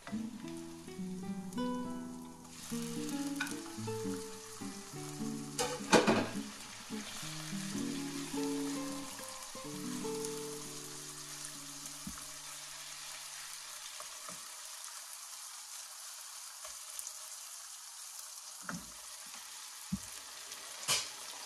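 Pork dropped into a hot pan with translucent onions, a bright crackling sizzle that starts loud with clattering and stirring, then settles into a softer, steady fry with occasional faint pops and knocks.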